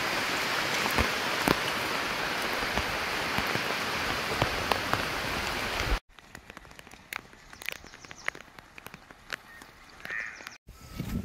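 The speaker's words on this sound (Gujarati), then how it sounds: "વરસાદ પડે છે પુલે પુલ" Heavy rain pours down hard and close in a dense, steady roar, then after a sudden cut continues lighter and more distant with scattered drips and crow caws.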